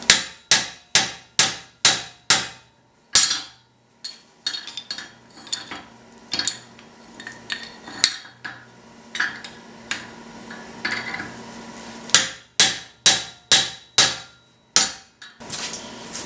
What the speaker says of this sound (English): We're going to go to the 7-pound sledge again to really drive that corner into our piece.